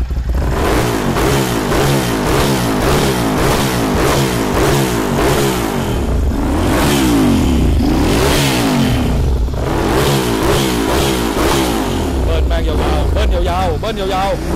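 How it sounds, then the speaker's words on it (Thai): A Ducati Monster 795 motorcycle engine revs repeatedly and loudly nearby, its throttle blips rising and falling in a steady rhythm across the whole stretch, with people talking over it throughout. "เบิ้ลหน่อย เบิ้ลให้ดูเลย"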